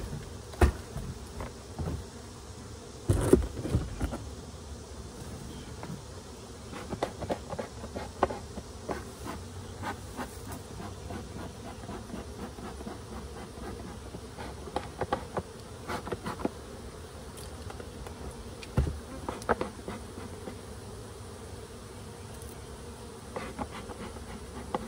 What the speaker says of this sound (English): we're gonna bump some bees now.